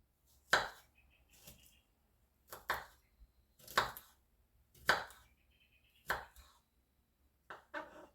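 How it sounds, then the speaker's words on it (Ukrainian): Garlic cloves being finely chopped with a knife on a board, six or seven separate crisp thuds a second or so apart, close and clear against a quiet room. "І зараз дрібненько буду нарізати"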